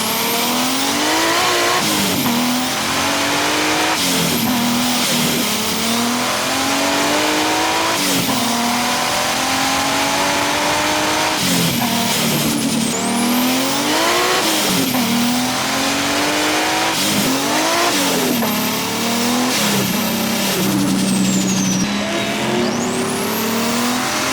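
A powerful 650-horsepower Lexus car engine revs repeatedly, rising and falling with each gear change, loud and close, with a brief tire squeal near the end.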